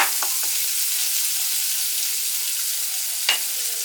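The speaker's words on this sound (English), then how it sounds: "once these onions get kind of sauteed" Onions sautéing in a pan, a steady, even hiss of frying close by, with a few faint utensil taps and no voices.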